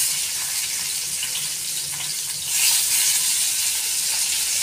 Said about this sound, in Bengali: এভাবে মাছগুলো ভেজে নেব। মিডিয়াম আছে মাছগুলো ভাজতে হবে।